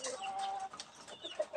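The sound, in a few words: hen clucking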